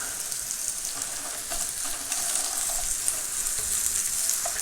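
Chicken-of-the-woods (sulphur shelf) mushroom pieces fry in a pan, giving a steady, close, even sizzle with faint crackles throughout and no voices.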